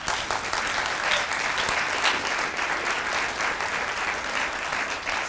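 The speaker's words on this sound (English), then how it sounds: "And can we clap for that?" An audience at a county historic preservation reception gives steady, dense applause, many hands clapping evenly at moderate loudness for the whole stretch with no talk over it.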